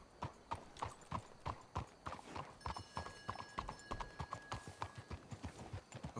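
Horse hooves in Red Dead Redemption 2 clip-clop in a steady, quick rhythm on the ground, faint and continuous, with a thin high tone briefly ringing beneath.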